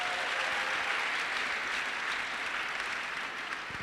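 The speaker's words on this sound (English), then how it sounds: "Really applaud if you think so." An audience at an entrepreneurship bootcamp applauds a panel, sustained dense clapping filling the hall at an even level before easing slightly near the end.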